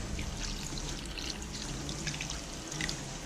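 Water poured into a pot of pork adobo with bay leaves, a steady soft pouring and trickling sound, quiet and continuous.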